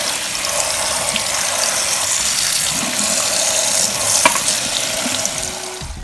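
Sorrel leaves are rinsed under a running tap, a loud steady hiss of water with occasional splashes and a brief clatter near the end.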